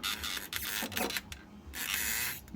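Close, soft clicking and creaking in a few rough bursts from a KO MP10 Eva toy robot figure's plastic joint ratcheting through its notches.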